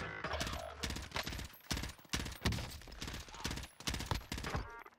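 Rapid automatic gunfire from an M16 rifle in the video game Warzone, loud bursts of repeated shots cracking across the whole clip with brief gaps between volleys.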